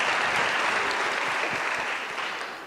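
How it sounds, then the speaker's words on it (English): A crowd applauds former president Thabo Mbeki at a conversation event, sustained steady clapping that tapers slightly toward the end. "Can we please give him a round of applause"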